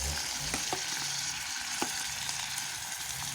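Rice noodles for pancit bihon sautéing in a pan, a steady hiss of frying broken by a few sharp clicks and scrapes of a utensil against the pan, close and without voices.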